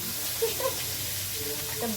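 A soft, steady sizzle of fish frying in a pan, fairly quiet, with faint clinks over the hiss.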